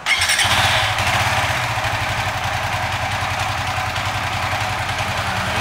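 A motorcycle with standard ECU ignition and an RSR 4C spark plug catches with a brief start-up roar, then settles into a steady, close, rhythmic putter at idle that continues throughout.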